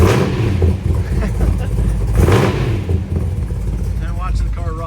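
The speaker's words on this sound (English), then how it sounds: "Let's open up the door now, and let's give it a couple revs." A freshly rotisserie-restored 1968 Dodge Charger with a 440 V8 making 520 hp and an automatic gearbox is revved hard a couple of times, a deep roaring surge close by, with voices talking around it.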